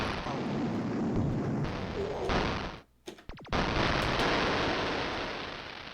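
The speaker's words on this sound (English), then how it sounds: "That bomb blew up the building, so we're good" A bomb blowing up a building in a 1980s video game: a sustained roaring, crackling explosion wash that cuts out briefly, returns with a few sharp bursts, then rumbles on loud and steady.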